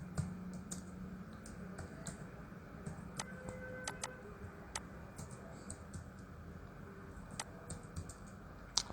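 Scattered clicks of typing on a computer keyboard, entering product details, come as light, irregular keystrokes over a steady low background hum, close and fairly quiet, with no talking.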